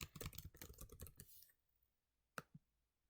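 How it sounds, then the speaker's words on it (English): A computer keyboard clatters with quick, closely spaced keystrokes for about a second and a half. Two isolated clicks follow after a quiet pause. "then I'm gonna start typing"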